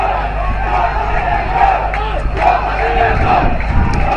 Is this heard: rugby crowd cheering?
yes